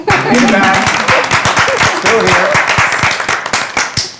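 An audience at a live podcast finale show claps loudly in dense, rapid applause that fills the room for several seconds, with voices mixed in.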